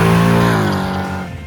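A Chevrolet Malibu's engine roars loud and close in a brief burst with a gritty tire edge, its pitch sagging and fading within a second and a half.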